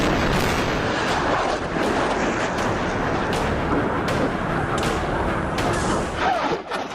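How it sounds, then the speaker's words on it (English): Gunfire and rockets in a southern Israel war zone, a loud, continuous roar of rumbling blasts with scattered sharp cracks standing out, constant throughout with no voices. "Gunfire, rockets."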